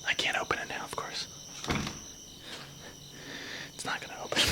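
An old wooden door at a historic fort is tried and rattled, giving a series of close, sharp knocks and clunks that return at irregular intervals, with faint whispered talk in between.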